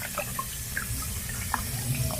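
Water running at a sink while dishes are washed, a steady faint stream with small splashes and clinks scattered over it.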